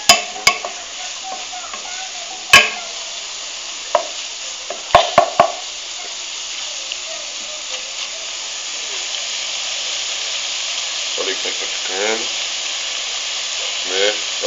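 Okra farofa with onions stirred in a frying pan, a continuous hiss of sizzling broken by a few sharp utensil knocks against the pan and brief scraping strokes later on.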